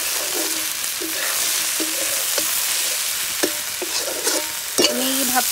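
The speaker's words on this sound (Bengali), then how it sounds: "এটাকে ভালো করে একদম মশলার সাথে ভালো করে মিক্স করে দিতে হবে।" Spices with ground cumin are stirred in a sizzling frying pan for vegetable pulao, the spoon scraping in regular strokes over a constant loud fry.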